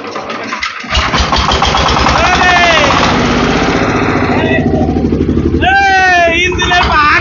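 A Changfa 25hp diesel engine cranks and starts after about a second, then runs loud and close with a heavy rhythmic chug as people talk over it.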